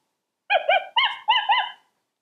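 A TM Toys Lucy interactive toy dog lets out five quick electronic barks in a close, loud burst, each bark clean and tonal against silence.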